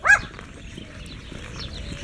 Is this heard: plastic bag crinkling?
no